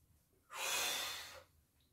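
A single deep inhale during a stretching exercise, a steady airy rush lasting about a second, close and fairly loud against a quiet room.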